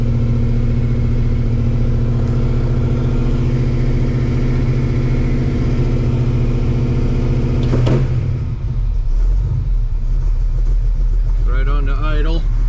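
A 1964 Ford Mustang with a four-speed and a rebuilt engine with a mild cam idles after a cold start, a loud, steady low rumble throughout. Someone talks over it near the end.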